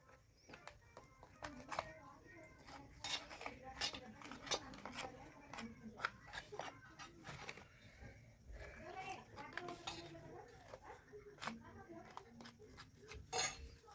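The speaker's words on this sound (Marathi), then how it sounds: "मी स्पूनचा यूज केलेला आहे ह्याला मिक्स करण्यासाठी" A spoon scrapes and clinks against a bowl while mixing henna paste, a string of sharp little taps and scrapes under quiet talk.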